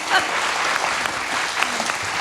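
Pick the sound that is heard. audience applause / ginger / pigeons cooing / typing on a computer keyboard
audience applause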